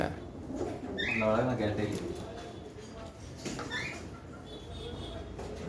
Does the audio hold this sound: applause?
no